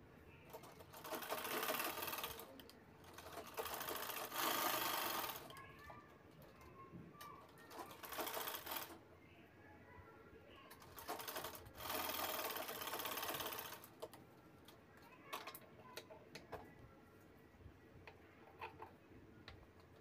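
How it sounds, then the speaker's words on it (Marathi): A sewing machine stitches along the side of a cloth sling bag in several whirring bursts, each lasting a few seconds, with pauses in between and pigeons faintly cooing in the background. "त्यानंतर मी दाखवते त्या पद्धतीने इथे साईडला शिलाई करून घ्यायची आहे."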